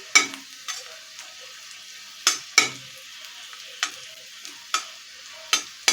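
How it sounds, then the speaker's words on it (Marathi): Garlic fries gently over a low gas flame, a quiet continuous sizzle punctuated by regular crisp clicks and taps of a spatula stirring in the pan, close and without talk. "कमी गॅसवरती लसूण परतून घ्यायचं आहे दोन मिनिट"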